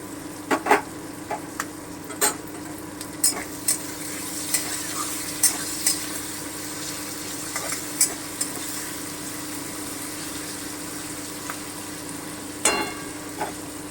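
Cashews and raisins frying in oil in a pan for a capsicum paneer dish, a steady close sizzle with scattered sharp pops and crackles throughout, no talking.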